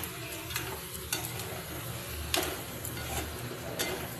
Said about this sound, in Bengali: মশলাটা দিয়ে দিয়েছি, বেশ কিছুক্ষণ ধরে কষিয়ে নেব, 5 থেকে 6 মিনিট।